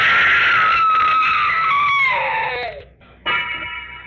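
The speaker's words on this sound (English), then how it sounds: "I wish I never heard that scream." A scream in a radio drama rises and falls as a long, loud, sustained cry, breaking off briefly before a second, shorter shriek.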